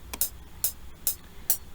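FL Studio metronome set to its tick sound gives four sharp, evenly paced ticks in a steady rhythm, clear and alone against a faint background hiss.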